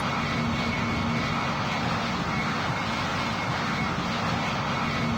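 An Airbus Beluga cargo aircraft on landing makes a loud, steady engine and airflow roar, heard close and continuous from start to finish, with a faint tonal whine running underneath.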